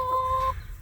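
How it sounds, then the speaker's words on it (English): Hens in a backyard coop at the edge of town give a single short, close cluck lasting about half a second, with a faint low rumble continuing after it. "I'm gonna try shooing these hens."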